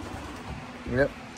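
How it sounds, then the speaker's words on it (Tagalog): Pigeons kept in a racing loft give a brief soft coo near the end, faint over a quiet outdoor background. "Yung mga ibon natin."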